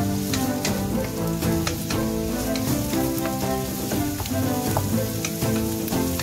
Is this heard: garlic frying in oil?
yes